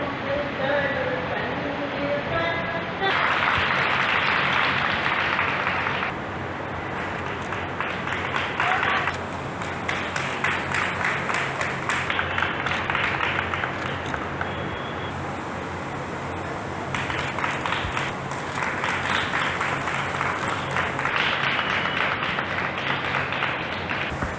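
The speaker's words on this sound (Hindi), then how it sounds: "सभी श्रोताओं ने परफॉर्मेंस दे रही छात्राओं की तालियां बजाकर हौसला अफजाई की" Audience clapping for female students performing at a school function with awards, with several loud bursts of applause separated by quieter stretches.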